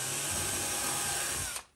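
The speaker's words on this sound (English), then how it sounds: "Looks like I need to drill some holes and remove the support at the bottom." A power drill runs continuously on a 3D-printed part in a workshop, a steady high-pitched whine bored into plastic for under two seconds before cutting off abruptly, close and alone.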